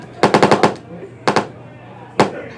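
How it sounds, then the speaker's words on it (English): Bursts of machine gun gunfire: a rapid string of about five shots, then two more, then a single shot, loud and sharp at an outdoor event in Toronto. "Somebody's shooting at me, I think."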